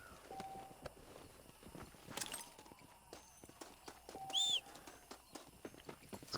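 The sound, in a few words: wild horse hooves in video game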